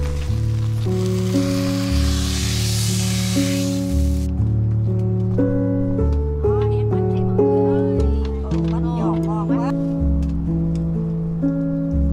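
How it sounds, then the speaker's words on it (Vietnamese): Banh xeo batter poured into a hot greased pan for a crispy pancake with muscovy duck and coconut heart, giving a hissing sizzle for about four seconds under steady music before it cuts off. "Khi lớp bột vàng đổ vào cái chảo mỡ thì sẽ phát ra tiếng xèo xèo"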